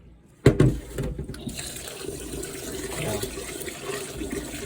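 Water splashes and swishes loudly at first as rice is rinsed in a bowl, then settles into a steady, gentle sloshing and trickling.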